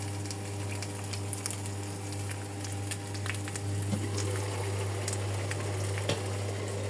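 Water heating in a pot for steaming crab gives a quiet, steady bubbling hiss with a constant low hum underneath and faint scattered pops and clicks, close by and without talk.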